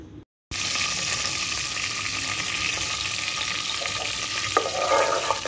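Masala for a fenugreek (methi) dish sizzles and fries loudly and steadily in a pan, a continuous bright crackle after a brief silent start, with faint stirring.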